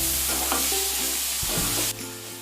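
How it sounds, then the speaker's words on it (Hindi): Dill and fenugreek leaves sautéed and stirred in a pan, giving a continuous soft sizzle with scraping stir strokes close up, with no talking. "अब इसमें डालेंगे शेपू के पत्ते, मेथी के पत्ते। इसे अब सौटे कर लेते हैं।"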